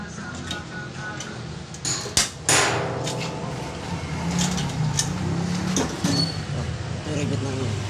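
Hammer blows driving rivets into an old, worn motorcycle sidecar, a few sharp close strikes standing out among steady workshop noise and ongoing talk.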